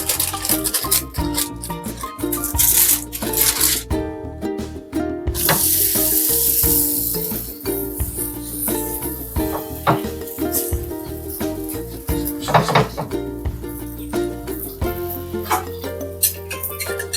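Bobbatlu fry on an oiled tawa for Ugadi, giving a steady, close sizzle throughout with occasional scraping and clinks of a spatula against the pan.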